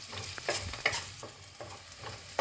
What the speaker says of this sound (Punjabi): ਹੁਣ ਪਿਆਜ਼ ਨੂੰ ਥੋੜਾ ਜਿਹਾ ਆਪਾਂ ਬਰਾਊਨ ਹੋਣ ਤੱਕ ਪਕਾਵਾਂਗੇ